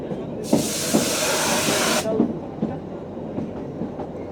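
The Kalka–Shimla mountain train rolls toward a station with rhythmic wheel clicks and a long burst of hissing steam early on, running continuously at close range.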